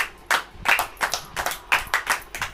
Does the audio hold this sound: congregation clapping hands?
yes